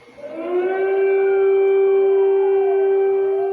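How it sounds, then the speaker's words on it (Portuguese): An air raid siren in Kyiv, Ukraine swells up and holds a loud, sustained wailing tone, its pitch slowly bending as it drones on, with no voices. "O som aterrorizante da sirene na capital da Ucrânia"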